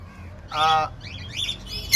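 A master pair of lovebirds chirps while bathing: one loud, harsh squawk, then a run of quick, high, twittering chirps close by.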